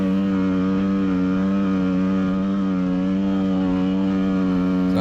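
Dirt bike engine, a 250 two-stroke class machine, held at wide open throttle while climbing a cinder volcano slope, a loud steady harmonic drone that never lets up, with no voices.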